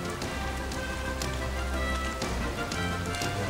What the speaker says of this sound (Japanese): 外は雨が降っていた。